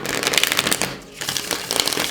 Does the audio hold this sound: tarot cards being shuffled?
yes